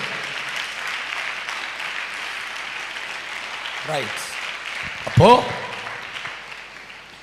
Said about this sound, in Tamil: கைத்தட்டி ஆண்டவருக்கு ஸ்தோத்திரம்.